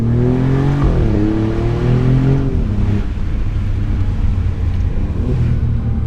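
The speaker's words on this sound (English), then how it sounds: "Let's do a small exhaust test." A 2024 Alfa Romeo Giulia Quadrifoglio revs hard several times, the exhaust note rising and dropping in loud growling bursts over a steady idle rumble.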